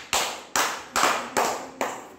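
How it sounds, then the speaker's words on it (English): Schoolchildren in a classroom clap for a classmate, five short bursts of group applause spaced about half a second apart, each starting sharply and fading quickly. "Clap for Darshit."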